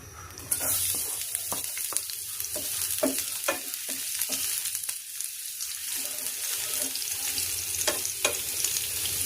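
Garlic frying in a hot pan gives a continuous loud sizzle, broken by repeated scraping and stirring knocks throughout.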